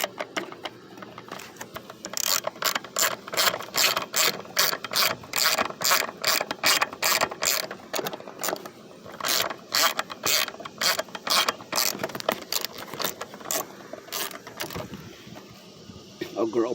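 A ratchet clicks rapidly in quick bursts while tightening the ignition coil bolt on a 2007 PT Cruiser engine, close and fairly loud, with brief pauses between runs of clicks.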